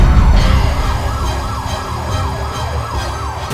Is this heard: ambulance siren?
yes